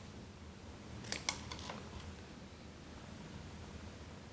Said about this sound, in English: Every few inches or so, we're going to come across our conductors. This is what it looks like, and we could simply cut across the middle.